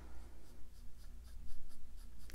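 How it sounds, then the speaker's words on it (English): A watercolor brush dabbed repeatedly against a paper towel makes soft, close, rhythmic tapping and brushing over a steady background hum. "See, I'm tapping it on my paper towel."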